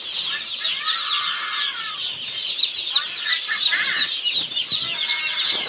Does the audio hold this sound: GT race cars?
no